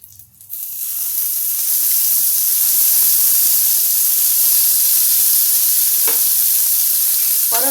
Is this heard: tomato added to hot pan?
yes